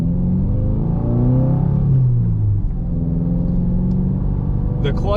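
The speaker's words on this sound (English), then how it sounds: "hear the turbo, all that good and fun stuff" A 2022 Subaru WRX with a turbo engine driving along: a loud, close engine drone whose pitch rises and then drops as the car pulls, followed by a steady rumble and a faint high whistle at the end.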